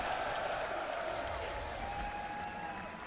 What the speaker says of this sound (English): The crowd is going to cheer so loudly when it's in his inventory